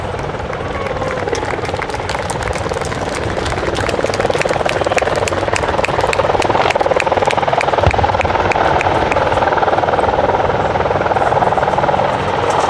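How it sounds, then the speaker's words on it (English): An attack helicopter roars steadily nearby during a flying display, its rotor chop and engine filling the air, with a crowd murmuring faintly underneath. "please put your hands together for the 2016 Attack Helicopter Display Team"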